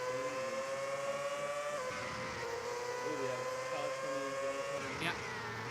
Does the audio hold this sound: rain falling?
no